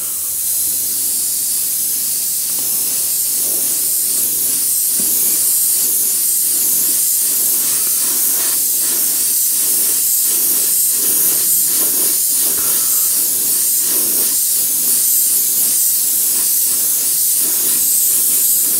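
Alclad metallic paint sprays on in light misting layers with a continuous, close, loud hiss that pulses slightly as the spray passes, and runs unbroken for nearly twenty seconds.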